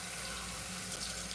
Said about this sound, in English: Hopefully you could hear me and the water's not like too loud.